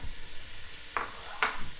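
Peppers added to browning onions in a pan for ratatouille, a soft steady sizzle with two sharp scraping stirs near the end.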